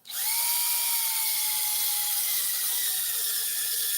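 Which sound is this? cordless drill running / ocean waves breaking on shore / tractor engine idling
cordless drill running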